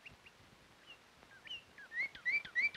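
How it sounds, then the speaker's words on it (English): Small birds chirping outdoors in short whistled notes, sparse at first and then quicker and louder in a cluster of bright repeated tweets toward the end. "He found birds."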